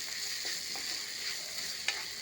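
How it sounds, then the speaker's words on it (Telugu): Soft, steady sizzling of spices frying in hot oil as a tempering for sambar, broken by a few light scrapes of stirring, one sharper near the end. "ఇది బాగా ఇందులో పోపులో వేసి కలిపేద్దాం"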